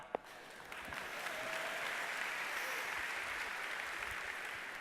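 Steady applause from a crowd, a dense wash of clapping that swells slightly and holds evenly without any talk.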